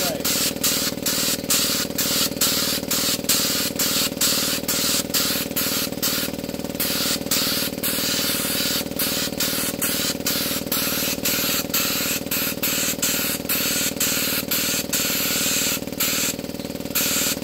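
Continuous hiss of glitter being sprayed onto a tumbler, with a loud air compressor droning steadily underneath throughout.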